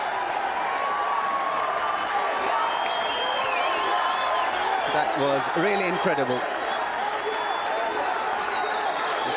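A large cricket crowd at Sharjah cheers and roars after a huge hit, a steady wash of cheering and whoops throughout, with a commentator speaking over it.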